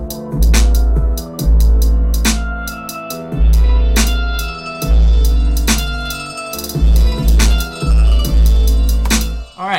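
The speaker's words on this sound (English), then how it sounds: "It sounds like it's coming from far away or like beneath something and rising to the surface of the mix" A hip hop hook pulses with booming kick-driven bass and bright percussive hits. A high-cut filter sweeps open across the passage, so the sound moves from muffled and distant to fuller and clearer. It is loud and continuous, with no voices.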